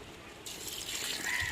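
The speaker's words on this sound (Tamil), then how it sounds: "இப்போ அளவு தண்ணி சேர்த்துக்கிறோங்க." Water poured into a pot of rice and crab masala for crab biryani, a brief splashing trickle that starts abruptly and runs on as a steady close-up pour.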